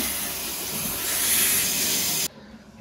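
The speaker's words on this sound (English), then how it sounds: "let's rinse this out. It's at first to lukewarm water and then finish it with cold water." Lukewarm tap water runs steadily during a face rinse, a loud even hiss and splash that cuts off abruptly near the end.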